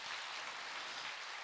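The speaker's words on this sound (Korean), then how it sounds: "박수로 맞으세요" An audience applauds to welcome a guest at a Buddhist monk's question-and-answer dharma talk: a steady, soft wash of clapping that stays fairly faint and even throughout.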